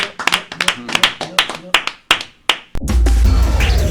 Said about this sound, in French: nous allons juste applaudir comme ça